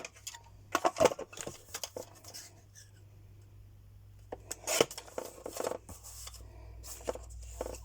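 Paper is cut down with scissors to make a tiny letter, producing close, dry snips and rustles in irregular bursts with a quieter pause midway and no talking.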